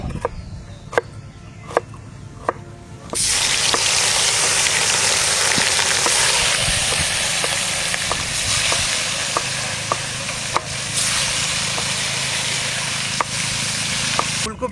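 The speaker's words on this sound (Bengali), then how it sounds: "ফুলকপি আলু একসঙ্গে ভেজে নেবো" Cauliflower and potatoes frying together in a pan, a loud steady sizzle that starts abruptly and holds throughout, with faint sporadic clicks before it begins.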